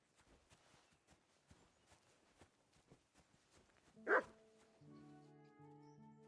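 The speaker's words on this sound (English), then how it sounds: "Barking." A dog in Kingdom Come: Deliverance II, a medieval game setting, gives one sharp mid-distance bark after a steady run of soft footsteps, followed by sustained tonal music.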